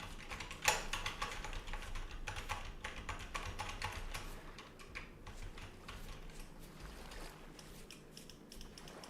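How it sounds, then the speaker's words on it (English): A computer keyboard clatters with rapid, irregular keystrokes close by, one sharper clack near the start, then a steady stream of clicking over a low background hum. "You can hear my keyboard."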